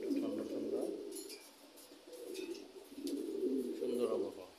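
Pet pigeons coo close by in cool weather. Their low, throaty rolls come in repeated swelling phrases with short pauses between them, over a quiet background.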